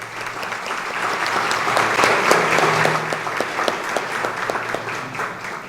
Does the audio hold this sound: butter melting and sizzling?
no